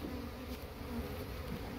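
Steady, soft droning of a swarm of honeybees from a 3-lb package being set atop the wooden hive during installation, a faint continuous buzz with no voices.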